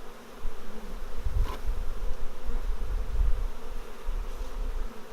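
A honey bee swarm buzzing, a dense continuous low hum of many wings, close and steady with gentle swells in loudness.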